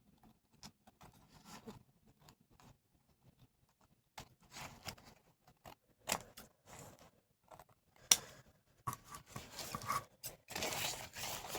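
Scissors snipping off the ends of a napkin on a craft board, a series of soft, close cuts and rustles with quiet pauses between them, growing busier toward the end.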